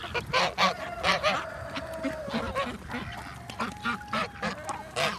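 Farm ducks and geese honk and quack in a busy, overlapping chorus nearby while eating feed off the ground, with soft pecking and splashing sounds beneath.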